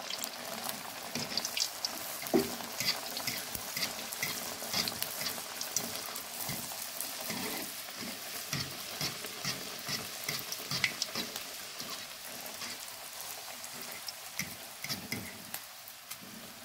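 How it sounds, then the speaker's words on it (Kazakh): Chebureki sizzling in hot oil over a gas flame, a continuous crackling fry with scattered pops and bubbling, moderately close and steady for the whole stretch, with no talking. "Енді чебурекімізді пісіріп аламыз."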